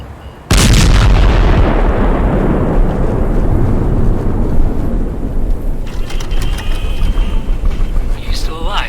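In the video game Last Days of Lazarus, a sudden loud blast opens heavy continuous gunfire and explosions as a cruiser is destroyed, a roaring sustained rumble that later thins into scattered crackles.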